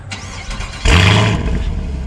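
A 2023 Chevrolet Camaro 2SS 1LE V8 engine cranks and fires into a rising roar, then settles into a steady, deep idle; close and loud.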